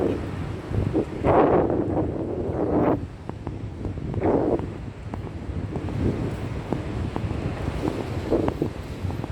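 Morning wind gusts through Mimi Park and buffets the microphone in several loud, irregular bursts over a low outdoor rumble. No one speaks.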